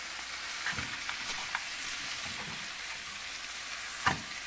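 Mutton curry gravy with ground sesame powder sizzles steadily in a pan as it is stirred, with a few soft scrapes and taps over the continuous frying hiss.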